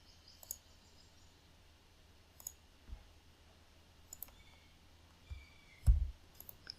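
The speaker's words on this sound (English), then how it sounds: "Click on browse." Computer mouse clicking close by in a quiet room, a handful of sharp isolated clicks spaced a second or two apart, the last one louder.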